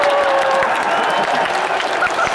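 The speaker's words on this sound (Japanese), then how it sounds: "立浪への声援だね今日は。" A large baseball stadium crowd gives sustained applause and cheers for manager Tatsunami after a hard-fought win, a dense wash of clapping and voices heard from within the stands.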